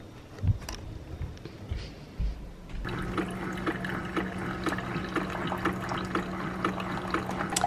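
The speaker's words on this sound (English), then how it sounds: "I really love the fact that the Keurig pours hot water too." A Keurig machine pours hot water: faint clicks and gurgles give way to a steady, louder stream of liquid with a low pump hum, continuing to the end without speech.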